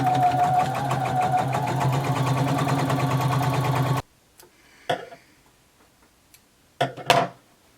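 Sewing machine stitching the side seams of a jumpsuit, a fast steady motor whir with rhythmic needle ticking for about four seconds, then stopping, followed by a few soft handling clicks and rustles.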